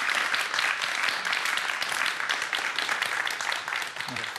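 Studio audience applause rings out for a professor after a particle-physics talk, a dense, steady wash of clapping that continues throughout at a fairly loud level.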